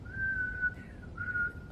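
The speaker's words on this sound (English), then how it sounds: "My sister literally whistles in one tone." A person whistles a single steady tone, holding one sustained note, pausing briefly, then repeating it at the same pitch, clear and close.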